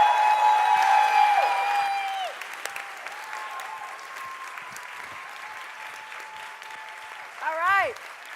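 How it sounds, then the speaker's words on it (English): A crowd at a Democratic women governors' forum applauds a special guest, the clapping strong at first and then thinning to a lighter patter under sustained tonal sounds, ending with a brief swooping tone. "Please give a round of applause for our special guest"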